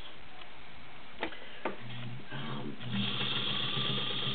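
A vintage belt-driven White Model 265 sewing machine rated at 1.3 amps gives a few isolated clicks, then settles into a steady, close mechanical whirr with rhythmic ticking.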